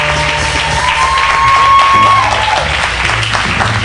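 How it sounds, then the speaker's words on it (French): Wedding guests at a ceremony in Atlanta applaud and cheer loudly for a woman, a dense steady roar of clapping and shouts with music and voices mixed in throughout. "Nous l'acclamons très très très très fort."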